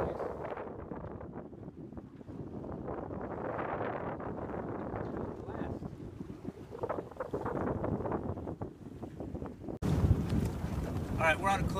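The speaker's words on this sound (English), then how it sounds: "We're on a beam reach. 5 knots, a little over 5 knots. Cruising along pretty good." A small sailboat on a beam reach off Ventura moves at about five knots, with steady rushing wind buffeting the microphone and water washing along the hull. A louder gust hits near the end, and faint voices can be heard.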